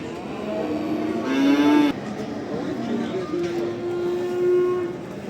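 Cattle and calves low at an outdoor livestock market in Barda, with a long moo and then a second sustained one over constant crowd murmur and faint voices.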